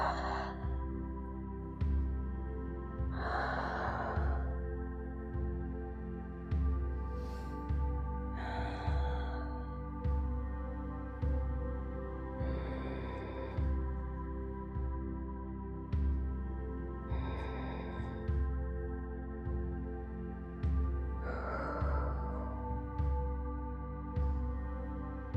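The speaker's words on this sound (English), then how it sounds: "Nice deep breaths." Deep, steady yoga breathing in a seated forehead-to-knee forward bend, with about six slow, evenly spaced breaths heard close up over a continuous low background hum.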